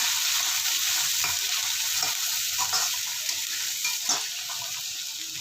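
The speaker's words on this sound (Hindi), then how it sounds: "हमने इसमें लहसुन अदरक डाल दिया है। इसको अच्छे तरीके से कर लेते हैं फ्राई।" Garlic and ginger sizzle steadily in hot oil, a bright crackling hiss with occasional stirring scrapes, close and continuous.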